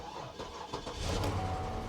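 An old Cadillac with about 100,000 miles cranks and catches, a few rough churning turns building into a low running rumble, fairly quiet and heard alone.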